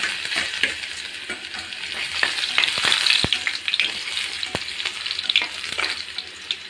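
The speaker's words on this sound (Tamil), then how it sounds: "அது கழிஞ்சு இடிச்சு வச்ச பூண்டு போட்டுக்கலாம்." Crushed garlic and mustard seeds fry in hot oil for a manathakkali keerai kulambu, giving a steady close sizzle with sharp crackles and spoon scrapes stirring through, with no talking.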